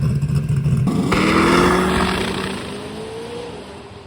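A drag racing car makes a pass down the track, its engine roaring up through the gears in a rising howl that peaks and then fades as it pulls away into the distance.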